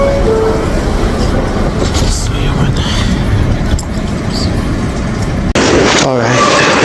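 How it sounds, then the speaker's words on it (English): A New York subway F local train rumbles loudly from inside a car, with continuous wheel and track noise, a sharp clunk near the end and squealing as it slows, while voices are faintly heard. "This is Queensbound F local train."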